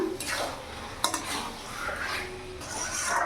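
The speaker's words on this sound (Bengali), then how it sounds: "ভালো করে মিশিয়ে নিয়েছি" Chicken curry being stirred in a pan for a festive home-style meal, with soft scraping and clinking of a spoon against metal, a sharper knock near the middle, steady and fairly close with no talking.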